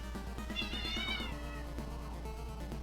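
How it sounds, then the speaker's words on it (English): Two house cats, Loki and Bella, meow repeatedly in drawn-out, wavering cries, fairly close but quiet, over a low steady hum. "Cats."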